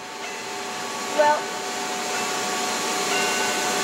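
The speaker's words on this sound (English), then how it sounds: "That motor that I turned on over there is the motor of a vacuum cleaner in the blower end." A vacuum cleaner motor runs as a blower in a 1960s classroom science demonstration, giving off a steady whirring hum with faint tonal whine. A brief spoken word rises over it.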